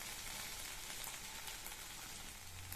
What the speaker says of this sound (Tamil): கத்திரிக்காய் வதங்கிட்டு இருக்கு